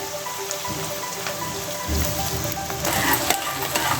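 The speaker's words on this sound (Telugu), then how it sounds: "కొద్దిగా ఇది వేగనిద్దాం. ఇది కొద్దిగా వేగింది కదండి." Telangana-style mutton curry sizzling in a pan after coriander, mint and fenugreek leaves go in, a steady dense frying hiss that grows slightly louder partway through, close and continuous with no voices.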